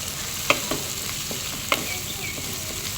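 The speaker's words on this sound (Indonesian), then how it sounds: "Kemudian aduk lagi sampai masak semuanya, sampai benar-benar rata." A spatula scrapes a pan of stir-fried cabbage and tomato in a few distinct strokes, with a soft sizzle and steady frying hiss running underneath throughout.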